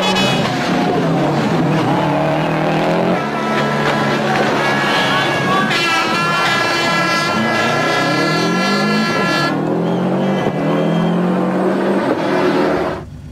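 Subaru Impreza V3 WRX STi Type R tuned to 340 bhp accelerating hard, the engine note rising through gears in loud repeated climbs with brief shift dips, up close, before cutting off abruptly at the end.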